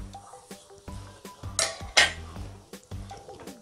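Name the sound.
stirring semolina (rava) in a pan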